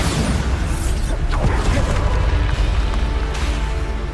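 A Bombarda explosion spell in Hogwarts Legacy gives a loud, close booming blast with crackling debris and continuous battle noise layered over it, sustained across the whole moment.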